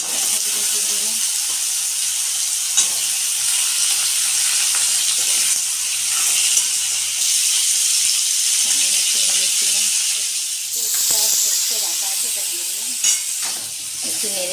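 Potatoes and vegetable stalks fry in a pan with a continuous bright sizzle, broken by occasional scrapes and clicks from stirring.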